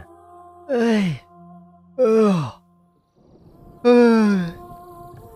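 People yawn in three long drawn-out groaning exhales, each sliding downward in pitch, fairly close and with no talk over them.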